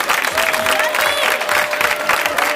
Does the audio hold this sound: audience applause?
yes